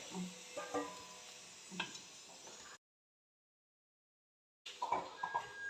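A snack for an afternoon tea plate frying in well-heated oil in a kadai, with steady sizzling bursts and light stirring clinks, broken by a stretch of silence before the crackle resumes.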